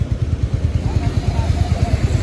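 A serviced Royal Enfield Hunter 350 motorcycle idles close by with a steady, rhythmic low thump of exhaust pulses. The beat stays even and fairly loud for a couple of seconds.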